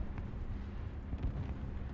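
Tank gunfire and explosions from a War Thunder tank battle make a dense, continuous low rumble of booming blasts, loud and muffled throughout with no clear talking.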